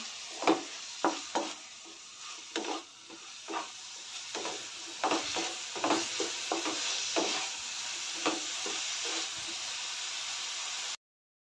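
Onion, tomato, garlic and a piece of ginger being sautéed in a pan, a hissing sizzle with frequent rhythmic scrapes and taps of stirring throughout, close and fairly soft, ending abruptly.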